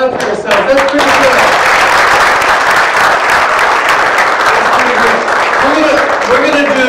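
Workshop participants clap for themselves after a rhythm exercise, producing loud, dense applause close by that carries throughout, with voices and laughter mixed in.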